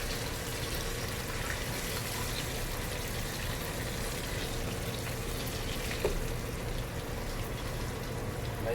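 Potatoes for papas bravas fry in a crowded pot of hot oil, giving a dense, steady sizzle and rolling bubble that holds evenly from start to finish with no voices over it.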